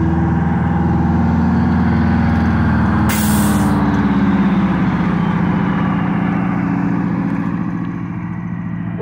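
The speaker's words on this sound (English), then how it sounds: "Look at that bus, Greyhound." A Greyhound bus rumbles steadily up close, and a sharp air-brake hiss bursts out briefly near the start over the constant engine drone.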